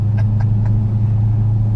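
A 1200+ horsepower Dodge Hellcat engine gives a loud, steady, deep rumble from inside the car, holding its drone without pause.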